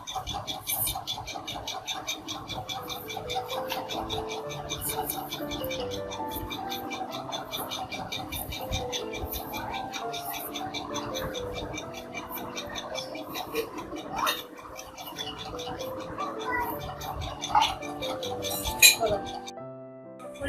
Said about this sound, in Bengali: পেঁয়াজ এবং কাঁচামরিচ আমি ভালো করে ধুয়ে তারপর কেটে নেব।